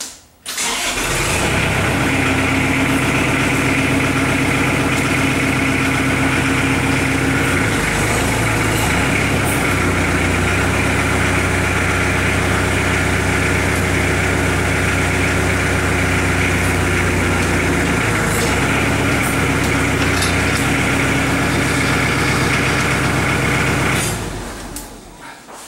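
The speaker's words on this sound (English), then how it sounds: "now we're going to turn the tractor on. It's going to be noisy, and then I make the bend." A tractor engine starts and runs steadily and loud for over twenty seconds, powering a homemade pipe-bending attachment on a backhoe, with a constant low rumble and no talking.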